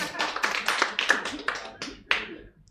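A handful of sharp hand claps rings out in a lecture hall, about a dozen uneven, fairly close smacks spread across a few seconds.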